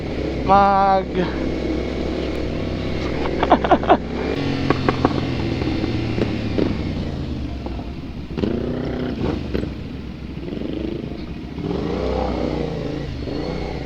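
A big bike motorcycle rides at night, its engine revving and droning through several rising and falling pulls, with brief clattering bursts. People talk throughout.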